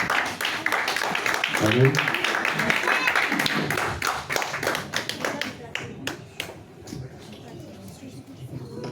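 A church congregation applauds during a French-language sermon, right after a scripture reading: a steady patter of many hands clapping, close and fairly loud, with a voice speaking over it.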